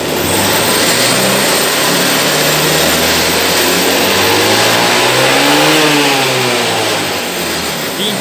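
A 2014 Honda PCX 150 scooter engine revs loudly close by, its pitch rising and holding high before easing back down, with no talking over it.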